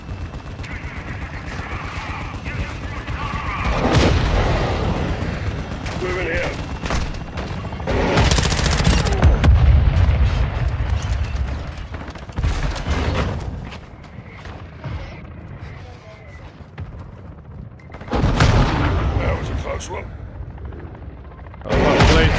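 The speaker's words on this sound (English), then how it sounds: "West side launched a mortar strike." Mortar strike explosions and gunfire in the Call of Duty DMZ video game: heavy booming blasts and bursts of shots come in loud waves, with broadband crashes around the middle and near the end.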